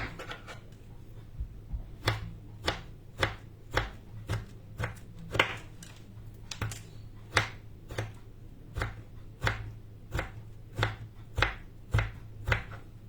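A knife chops steadily through fresh red fruits on a board for a flan pâtissier, about twenty crisp, evenly spaced cuts sounding close over a low steady hum, with no talking.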